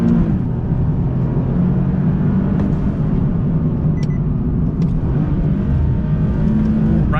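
Engine of a 2019 Nissan 370Z Roadster with an automatic transmission as it downshifts: a loud, continuous low rumble with a steady droning tone, heard close throughout with no talk.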